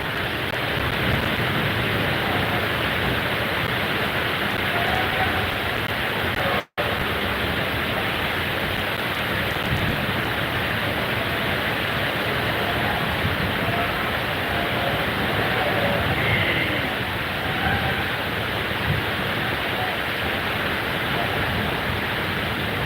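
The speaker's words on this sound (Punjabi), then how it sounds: "ਮੀਂਹ ਬਹੁਤ ਤੇਜ਼ ਆ" Heavy rain pours down on a village in Jalandhar district, Punjab, in a steady, dense roar that fills the whole stretch, broken only by one very brief dropout early on.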